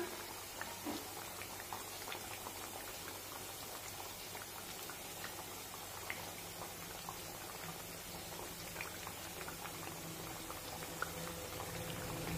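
Coriander vadi frying in oil gives a steady, faint bubbling sizzle with scattered tiny pops, unbroken and with no voices.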